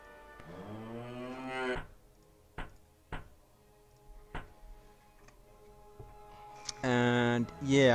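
In the Capitalism Plus business game WATT Inc., cattle give a long, loud moo, followed by sparse ticking clicks and then a second burst of mooing near the end.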